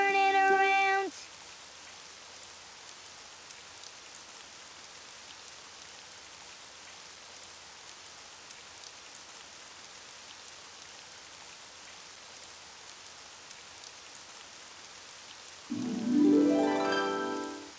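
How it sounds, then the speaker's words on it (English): Rain falls outside in a soft, steady, even patter that continues for most of the stretch, with brief musical and vocal sounds at the very start and again near the end. "Oh, it's raining outside."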